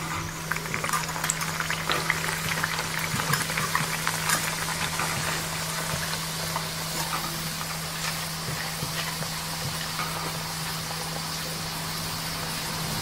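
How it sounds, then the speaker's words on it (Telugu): Rice flour nippattu deep-fry in hot oil, a loud steady bubbling fizz with crackling pops and a low constant hum beneath, unbroken for the whole stretch. "ఆయిల్ వేడయ్యాక ఈ కవర్ మీద నుంచి మెల్లగా వీటిని తీసేసుకుని ఈ విధంగా ఆయిల్లో మెల్లగా వేసేసుకోండి."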